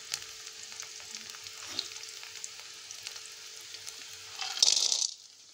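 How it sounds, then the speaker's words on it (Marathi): Onion, green chillies and peanuts frying in oil in a pan: a quiet, even sizzle runs throughout and swells into a brief, louder burst of hissing near the end before cutting off. "कांदा चांगला लालसर होईपर्यंत तळून घ्यायचा।"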